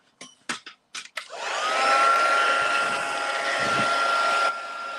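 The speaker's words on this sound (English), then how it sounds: "Let's back the heat gun." A heat gun starts after a few short clicks and handling knocks, then blows with a loud, steady whir and a thin whine, and drops to a softer hum near the end.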